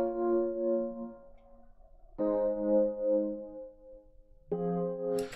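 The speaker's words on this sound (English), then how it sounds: "I just picked a piano sound from Addictive Keys." Three sustained piano chords from an Addictive Keys virtual piano, each struck cleanly and left to ring, with short gaps between them and no voices.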